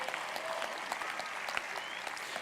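A graduation audience at Tigard High School's 2017 ceremony breaks into sustained applause and cheering, a dense, steady wash of clapping from a large crowd with scattered whoops.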